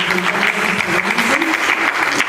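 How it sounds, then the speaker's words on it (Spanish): Applause from the audience at a psychology education symposium, a dense steady wash of many hands clapping that runs unbroken through the whole stretch at a fairly loud level, with faint voices mixed in underneath. "Fanny y Alejandro merecen un aplauso"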